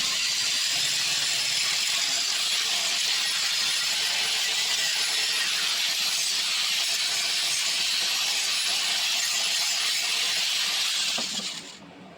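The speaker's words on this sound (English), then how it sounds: "the wire wheel made quick work of stripping the old flaky paint off" Wire wheel grinding old, flaky paint off a Shopsmith base, a steady, loud, high-pitched whirring scrape that holds for about eleven seconds before tapering off at the end, with no speech.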